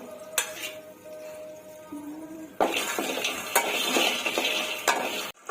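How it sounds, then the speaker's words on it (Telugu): Five tablespoons of peanuts frying in a pan over medium flame, with scraping stirs and light clinks of a utensil against the pan, growing busier and louder partway through. "ఒక 5 టేబుల్ స్పూన్ల వేరుశనగ పప్పు యాడ్ చేసుకొని ఫ్రై చేసుకుందాము"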